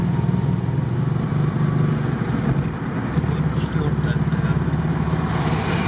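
Engine of a 1965 ZAZ-965 Zaporozhets driving through Kyiv in the evening, a buzzy, rattling drone that holds steady with a brief dip as the gears are shifted, recorded close inside the car while someone talks over it.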